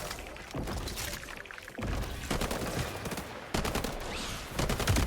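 Rapid automatic gunfire rattles through a Highguard match, dense bursts of shots layered with thumps and impacts, loud and nearly continuous across the whole moment.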